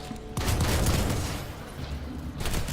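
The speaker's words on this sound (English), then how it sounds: "Holding down the trigger will cause this weapon's spread to increase rapidly, meaning burst fire is necessary if you want to maintain accuracy." A video-game weapon fires in dense, rapid bursts, with loud, continuous cracking shots rolling over one another for nearly three seconds.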